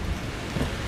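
Steady rain pours down in the horror game Outlast 2, a downpour of blood in a nightmarish scene, heard as a dense, even hiss with low rumbling beneath and no voices.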